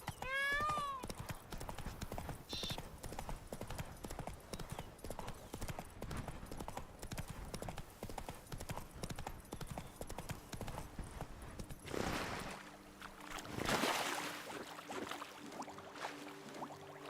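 Hooves of Roach, a horse in The Witcher 3: Wild Hunt, clip-clop in a steady trotting rhythm through most of the stretch, with a brief whinny near the start and a splashing burst toward the end.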